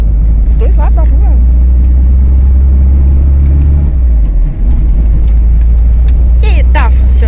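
A parked car's engine idles steadily after sitting unused for six months, a low continuous rumble with a brief dip, while people talk nearby over it.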